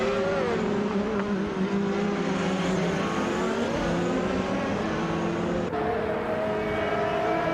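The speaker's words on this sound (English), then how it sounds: "Aminsan is driving a 2003 Panos Elmi D01 Roadster S" The engine of a 2003 Panos Elmi D01 Roadster S race car in a racing video game drones steadily throughout, its pitch shifting gently and jumping once near the end, as if changing gear.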